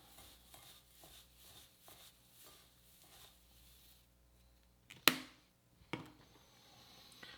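Italian seasoning is stirred into a mixture in a bowl, with soft rhythmic scraping strokes at a steady pace that end in two sharp clacks against the bowl.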